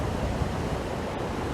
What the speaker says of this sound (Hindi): ये नूरी शाम का झरना